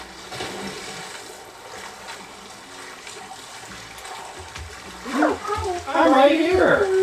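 Water splashes from a character jumping in during Animal Crossing gameplay, soft sloshing that builds near the end beneath people talking.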